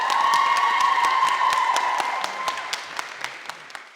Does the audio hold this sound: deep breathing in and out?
no